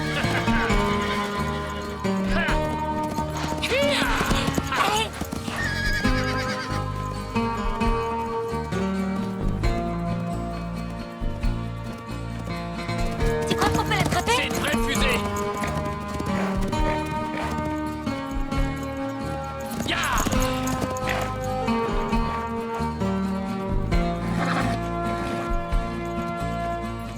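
A horse gallops and whinnies in a French family drama film, the hoofbeats and neighs set under a loud, continuous music score that runs for the whole stretch.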